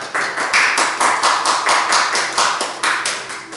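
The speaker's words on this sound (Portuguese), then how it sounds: "Pode aplaudir o Senhor," Rhythmic, fairly loud clapping from a church congregation at a worship service, steady pulsing beats continuing throughout without talk.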